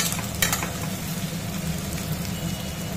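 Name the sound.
potatoes and onions frying together in a pan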